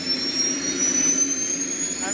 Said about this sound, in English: So that's the little engine firing up,